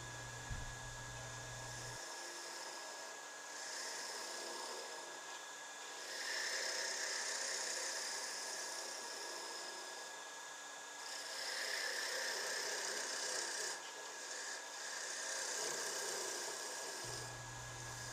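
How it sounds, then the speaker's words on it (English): Skew chisel taking light cuts on bubinga wood spinning on a lathe, a steady whirring hiss with the motor's constant hum, swelling and easing in long passes. "I'm just gradually working down the wood to the final diameter here, taking very light cuts as I get closer and closer"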